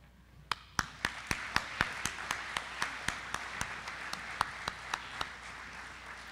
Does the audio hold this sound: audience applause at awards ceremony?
yes